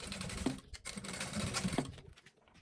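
A sewing machine stitches a plastic makeup pouch with a steady close-up run of rapid needle clatter, briefly pausing twice before fading out near the end.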